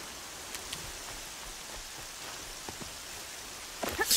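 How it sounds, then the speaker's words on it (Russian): Steady rain in the video game Horizon Zero Dawn, a soft even hiss of falling drops with a few faint patters and a slight swell at the end. "Дождь — это неплохо."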